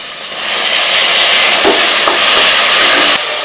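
Onions and tomatoes sautéing in a pan: a loud, steady, close sizzle and hiss runs throughout with a few faint stirring knocks, no talking.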